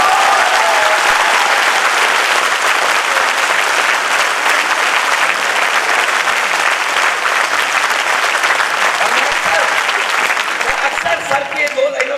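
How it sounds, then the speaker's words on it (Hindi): Dense, sustained clapping from a large audience at a motivational talk, loud and continuous for about twelve seconds, easing slightly near the end. "जब हम तालियां बजाते हैं हाथ से हाथ लगता है"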